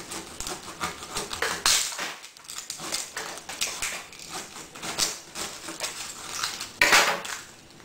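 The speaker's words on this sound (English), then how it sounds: "I'm just going to cut through" Knife chopping through an onion on a board, a series of quick uneven cuts and clacks close up, with occasional louder knocks of the blade, no talking.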